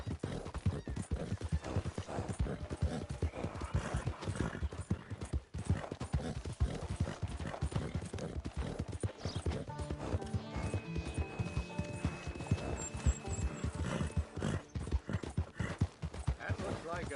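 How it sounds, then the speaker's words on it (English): Horse hooves clip-clop steadily in Red Dead Redemption 2, with a whinny and game sounds in a dense continuous mix, under ongoing conversation between characters. "That looks like a pretty nice horse you got there."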